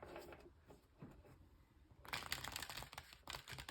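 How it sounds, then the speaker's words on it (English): Oracle cards are shuffled during a tarot reading, giving soft riffling and slapping noises that start quiet and turn louder and denser midway, continuing in quick bursts. "These first oracle cards. I'm going to shuffle one more time."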